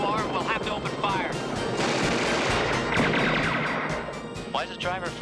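Rapid bursts of gunfire crackle from a driver in a police helicopter action series, dense and loud under overlapping shouted talk and engine noise.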